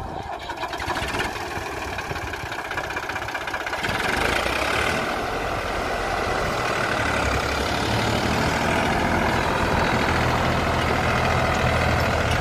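A Farmtrac 60 Deluxe tractor with a rotary injection pump cranks and starts, then settles into a loud, steady diesel idle that runs on without speech.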